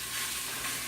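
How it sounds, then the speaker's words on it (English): Ground beef sizzles loudly and steadily in a hot pan, a dense, constant crackling hiss with no other sounds. "Here's the sizzle."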